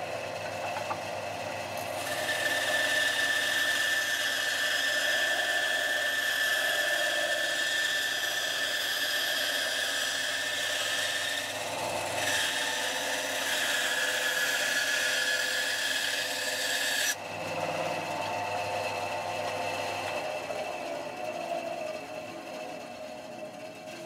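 An Axminster AW1950B bandsaw runs with a steady whirring motor hum and a high whine while cutting a thin strip of scrap softwood, loud and continuous with no speech.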